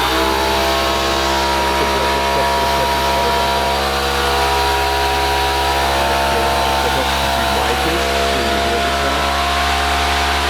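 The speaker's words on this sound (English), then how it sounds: "That was the compressor kicking in." A loud, steady mechanical drone of an air compressor runs continuously up close, with a constant hum and faint rattling layered throughout.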